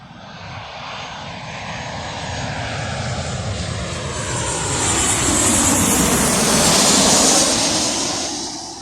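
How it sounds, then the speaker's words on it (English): A Boeing 737 airliner on approach to land at Birmingham Airport, its engines roaring steadily and building louder toward the end as it passes close, with no voices. "Now again, another Boeing 737."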